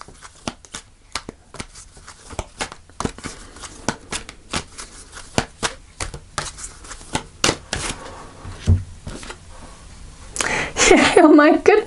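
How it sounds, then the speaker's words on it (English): Tarot cards being shuffled for a reading, a long run of crisp riffling flicks and slaps at a steady, quick pace, close and clear, with a louder burst of handling near the end. "So I'm going to pull a final card."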